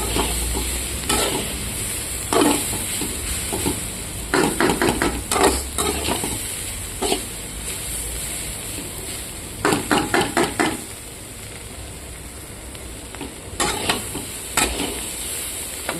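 Broad bean and onion fry being stirred in a pan, bursts of scraping and clattering spatula strokes against metal over a low background sizzle, pausing between rounds.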